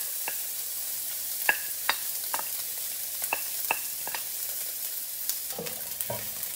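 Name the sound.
frying sliced onions in olive oil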